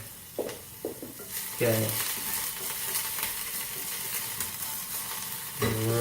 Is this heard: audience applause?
no